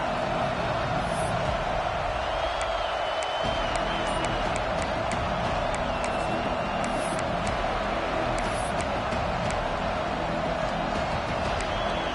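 A packed football stadium crowd in a game against Texas keeps up a dense, loud, unbroken roar of cheering and shouting, with occasional sharp whistles rising above it.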